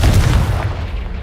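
A Confringo blasting spell exploding in Hogwarts Legacy, one loud, close, deep boom that quickly decays.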